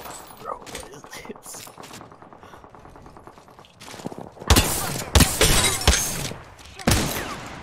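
Bursts of automatic and single-shot gunfire from an Apex Legends match, with a Wingman and a Mozambique in play, erupt loud and close in the second half over quieter game sounds, with players talking.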